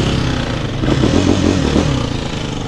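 A Yamaha Banshee 350 ATV engine bogs and sputters close by, its rough mid-range drone wavering unevenly through the whole stretch with clattering mechanical noise on top.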